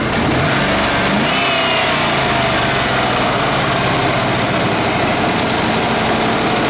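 A 1992 Corvette C4 LT1 engine of 300 horsepower, in good shape with no leaks, ticks or knocks, is revved. It sounds loud and close, with a steady, dense roar that climbs and holds, and no voices are heard.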